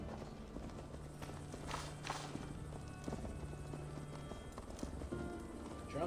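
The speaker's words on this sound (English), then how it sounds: "Drunken horse riding." Horse hooves clip-clop steadily through a mounted ride in Assassin's Creed Valhalla, a continuous mid-loud rhythmic beat layered over game ambience and a low sustained tone.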